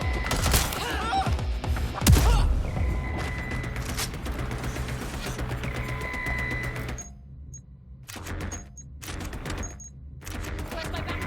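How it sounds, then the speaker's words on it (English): Bursts of automatic gunfire in the video game Watch Dogs, loud rapid volleys with heavy thuds, then scattered single shots popping against near silence toward the end. "Shots fired! Shots fired!"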